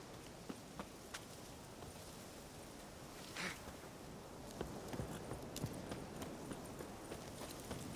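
Roach, the horse in The Witcher 3, gallops in a steady rhythm of muffled hoofbeats over soft ground, with ambient game sound and a brief louder swish partway through.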